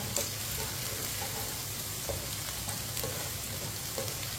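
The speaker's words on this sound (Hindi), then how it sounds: "भिंडी को इसी तरह चम्मच चलाते हुए फ्राई करना" Okra frying in a pan while being stirred with a spoon, giving a steady close sizzle with faint scraping touches throughout, no voices.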